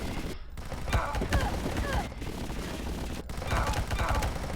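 Rapid bursts of gunfire from the video game Zortch, dense and sustained through the stretch with a few sharp breaks, loud and close over a busy game soundscape.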